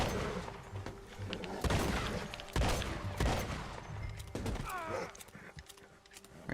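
Loud shotgun blasts go off in quick succession in Red Dead Redemption 2, with strong booming bursts around two and three seconds, followed by creaks and scattered game sounds.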